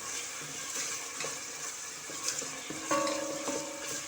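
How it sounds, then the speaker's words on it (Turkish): Onions frying in a pan as peppers are added for a sour, spicy Turkish leek dish, a steady close sizzle with soft stirring scrapes and a few clinks of utensil on pan. "Soğanlarım kavrulurken biberini de vereyim."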